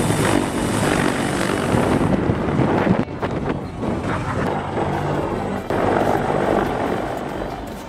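A CH-53 helicopter's rotor drones with a deep, rumbling thump, blended with heavy wind noise buffeting the microphone, loud and close throughout.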